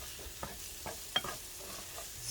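A spoon stirs flour into a pot of Tuscan mac and cheese, giving a few soft, separate scraping strokes over a faint background hiss.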